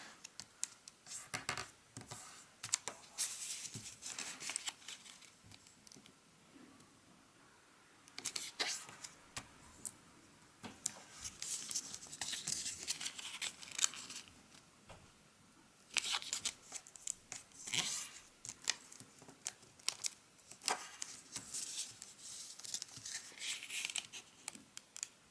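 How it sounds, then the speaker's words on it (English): Paper crinkles and rustles as all four corners of a sheet are folded to the center for a bucking horse origami model, close, quiet bursts of crisp handling and creasing that come and go. "all four corners of this paper, we're going to fold it to the center"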